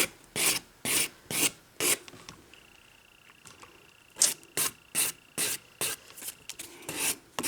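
A polygel nail overlay being filed during a spring manicure, heard as close, rhythmic rasping strokes in two bursts of about five strokes each, separated by a quieter pause.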